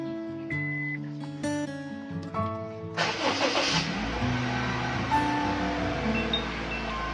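Honda Freed car engine fitted with an intake velocity stack, quiet at first under some tonal background sounds, then revved hard into a loud sustained roar that settles into a steady hum.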